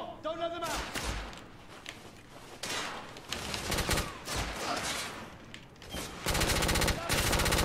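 Rapid automatic gunfire and shots from The Order: 1886, a Victorian-era third-person shooter, crackle in loud bursts throughout and grow into a dense sustained volley at the end, mixed with game music and voices.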